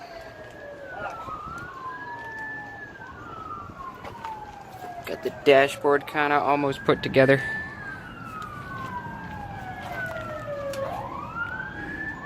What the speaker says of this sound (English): I apologize for the siren.